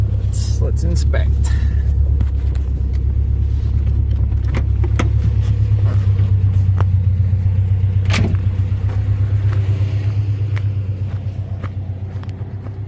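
A stock Subaru hatchback rolls slowly off-road over deep ruts, its engine and tyre rumble steady and close throughout, with occasional knocks and rattles from the cabin and suspension, fading slightly toward the end while a person speaks intermittently.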